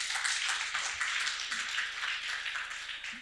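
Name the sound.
audience applause at a panel discussion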